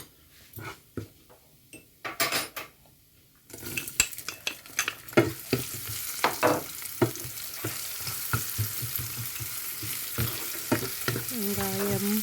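Spices such as fennel and cumin fry and are stirred in a pan for a shrimp curry, with scattered scrapes and taps over a steady sizzle that swells after a quieter start; faint whimpering animal sounds show up early on.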